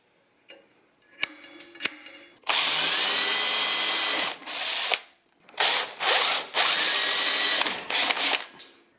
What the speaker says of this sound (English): I drilled the hole a little bit smaller than needed